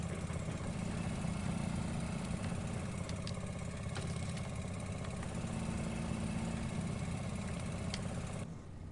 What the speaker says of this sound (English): That is what the lawn tractor can do.